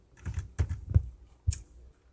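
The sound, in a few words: pressing the hanja key on a computer keyboard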